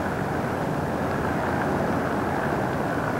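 Airplanes at Vancouver International Airport produce a steady, loud broadband roar of jet engines that holds evenly throughout, with no voices over it.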